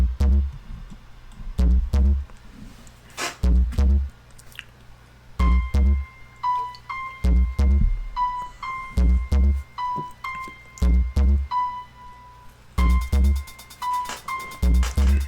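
A hip-hop beat built in FL Studio on a sample: booming 808 bass hits and punchy kicks pulse in a steady rhythm, with crisp hi-hats and a bright repeating melodic tone joining midway, loud and upfront.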